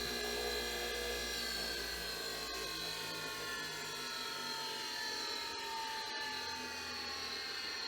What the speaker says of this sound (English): That's a pretty good rough grind.